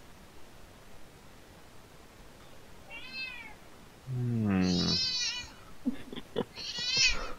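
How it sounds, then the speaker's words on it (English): A close cat meowing on a microphone during an online tabletop role-playing session, with a faint first mew followed by two louder drawn-out meows and a final yowl over hissy background noise. "now you have a cat on your microphone"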